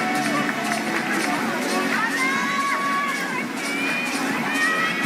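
A crowd at a lead climbing semi-final in Seoul cheers and shouts in a steady, loud roar with high whistles and children's cries rising through it.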